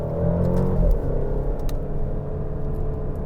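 Alfa Romeo Stelvio Ti Sport SUV rolling on fresh Michelin tires, giving a steady low road rumble and engine drone that swells slightly near the start and holds throughout, with no voices.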